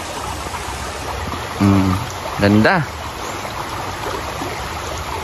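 Clear water of a stream flowing steadily in an outdoor spot, a continuous close rushing wash throughout, with a person speaking briefly in the middle.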